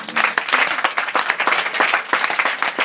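A church congregation applauds loudly, dense rapid clapping filling the whole moment without a break, with some cheering mixed in.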